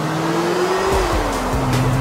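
A video game car speeds off with boost, its loud engine tone climbing and holding steady while tires squeal briefly near the middle, close and continuous with no voices.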